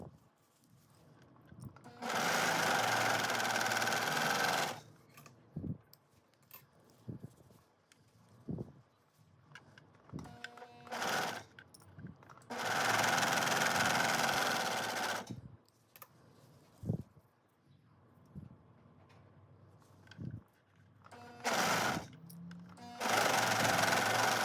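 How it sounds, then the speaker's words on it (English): A serger stitches the side seams of a two-piece dance set, running in three loud, steady bursts of several seconds each, separated by quieter handling noises, with no talking. "let's go to our serger"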